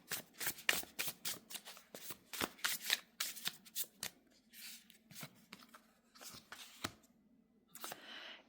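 A deck of tarot cards is shuffled repeatedly, each riffle a quick papery flutter with short pauses between bursts, close and clear with no talking over it.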